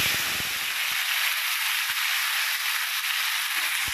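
Chopped tomatoes land in hot mustard oil tempered with five-spice and a dried red chilli, giving a loud, steady, close sizzle and hiss throughout, broken by a few low knocks and taps.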